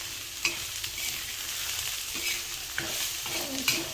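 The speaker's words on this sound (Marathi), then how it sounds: "परतून झाले आणि आता थोडंसं साईडनं तेल ओतून घेते" Kurdu greens frying in oil in a pan, a steady close sizzle with occasional scraping stir clicks and soft clatters throughout, no voices.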